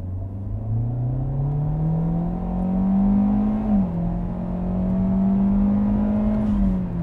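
A 2021 Hyundai Elantra with a 147-horsepower engine accelerates hard from a standstill without launch control, its steady engine drone climbing in pitch, briefly dipping at a gear change, then rising again, loud and continuous from inside the car.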